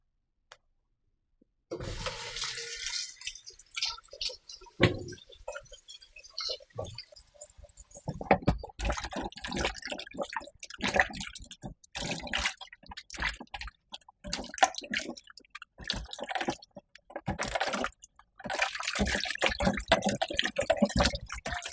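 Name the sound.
washing green bananas with water and baking soda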